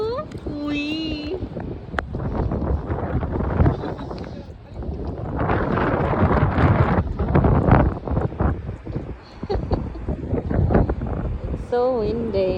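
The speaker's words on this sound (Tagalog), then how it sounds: "It's so windy." Strong beach wind buffets the microphone in rough, uneven gusts that roar up and fall away, with people chatting and calling out over it.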